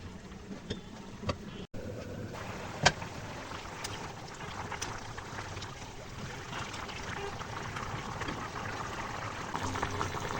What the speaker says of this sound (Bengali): তরকারিটা উতলাতে শুরু করেছে